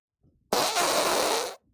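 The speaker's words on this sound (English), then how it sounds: "Yeah, he farted." A single loud fart, close up and lasting about a second, a broad raspy burst that holds steady and then cuts off abruptly, with quiet surroundings on either side.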